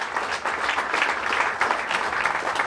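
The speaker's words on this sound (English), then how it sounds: "But give Lance a nice round of applause." At a VFW post comedy night, the audience applauds the post commander with a steady round of clapping at moderate loudness and no one talking over it.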